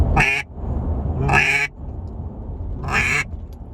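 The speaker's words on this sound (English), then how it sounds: "I would just suggest starting with the simple quack" Three loud, close quacks blown on a duck call, each a short harsh burst with a sharp cutoff, spaced about a second apart with quiet gaps and no talking.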